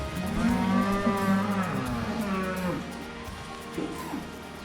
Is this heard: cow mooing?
yes